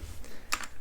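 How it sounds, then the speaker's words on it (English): Quick keystrokes on the clacky, tactile mechanical keys of a Freewrite Hemingwrite distraction-free typewriter, a few sharp close clicks in a short burst with no talk. "They're very clacky, very tactile. If you like a lot of sound and feel with your keys, then you're gonna like this Freewrite."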